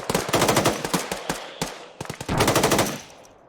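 Automatic rifle fire in the military shooter game ArmA 3, laid down as sustained suppression: two long, rapid bursts of close, loud shots separated by a brief gap, the last one trailing off into an echoing tail.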